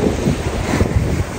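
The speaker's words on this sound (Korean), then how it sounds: "여수에는 파도가 좀 잔잔한데 오늘 제주도는 파도가 좀 세네요." Strong sea waves and gusty wind on the Jeju coast, a loud, close roar of surf blended with heavy wind buffeting the microphone, with no talking.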